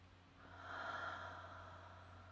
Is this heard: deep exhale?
yes